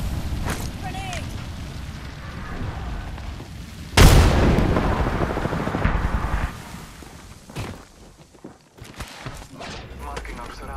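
A grenade goes off in Apex Legends with one loud, close boom, followed by a rumbling tail that fades over several seconds. Scattered gunfire and game noise surround it, and a voice talks briefly.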